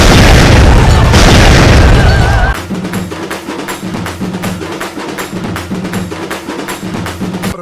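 A loud boom with a rumbling roar for a couple of seconds, then a rapid series of sharp crackling pops and bursts continuing to the end.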